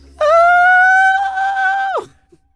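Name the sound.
person screeching loudly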